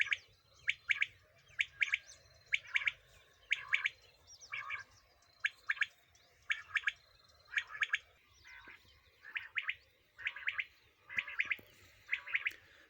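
A blue kingfisher gives repeated short, harsh chattering calls in regular bursts about every second. The calls are moderately close over a low background hum with faint insect or frog noise.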